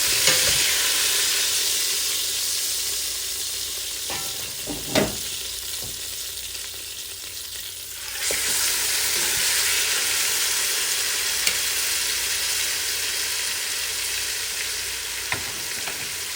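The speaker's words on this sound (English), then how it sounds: "now we're gonna remove these from the pot, nice and brown, and we will add our last one" Beef shank browning in a pot gives a steady, loud sizzle and fry throughout, with a few clinks and stirring scrapes, the sizzle briefly dipping then rising again partway through.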